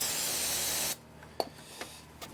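Brake cleaner sprays in a steady loud hiss onto a Ford Ranger brake rotor for about a second, then cuts off, followed by a few faint clicks and taps in a quiet workshop.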